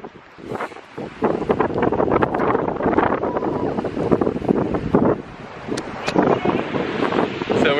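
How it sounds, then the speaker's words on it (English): Strong wind on Whitehaven Beach buffets the microphone in a steady loud roar, with surf in the background and a voice speaking over it. "it's a little windy, so I hope you can hear it."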